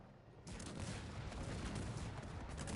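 Enemy cannon bombardment and gunfire in a strategy video game battle between France and Austria erupt as a dense, continuous rumble of distant shots and booms that begins abruptly and stays loud, with no talking.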